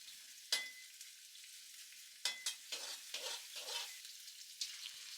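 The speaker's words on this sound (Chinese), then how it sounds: "洋葱不用炒得太久" Onion stir-fried with garlic and ginger in a wok for taro chicken, heard as quiet intermittent sizzling bursts and scraping tosses of the spatula spaced a second or so apart.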